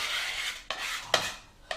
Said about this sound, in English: Scrape that knife across the board.